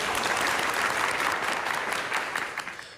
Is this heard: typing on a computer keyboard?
no